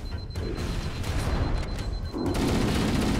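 Frag grenade explosion in Halo: Combat Evolved Anniversary campaign gameplay, a sharp burst of blasts and gunfire-like crackle that stays loud and dense throughout, with a brief dip just before the end.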